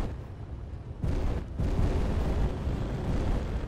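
Laser shots and explosions in a Space Engineers space battle, a continuous heavy rumble of blasts that swells twice into louder booming waves and keeps rolling without pause.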